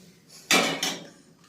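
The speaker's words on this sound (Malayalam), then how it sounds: "ഇനിയും ഗ്രീൻ പീസ് ആദ്യം കുക്കറിനകത്തേക്ക് ഇടുന്നു." Green peas tipped into a pressure cooker in a home kitchen, landing as a short burst of rattling patter with a second smaller clatter just after, close and fairly loud, with no talking.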